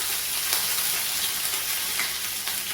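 Mustard seeds, urad dal, cumin and curry leaves tempering in hot oil for a South Indian sambar rice, giving a steady, close, dense sizzle and crackle that holds evenly throughout with no voices.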